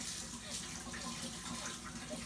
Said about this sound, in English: maybe you should keep the water in the sink instead of on the floor.